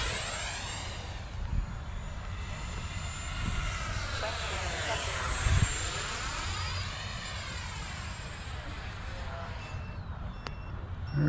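An FMS F-16 Fighting Falcon 64mm EDF RC jet makes a full speed pass, its ducted fan whine rising and falling in pitch as it sweeps by, steady and loud across the sky.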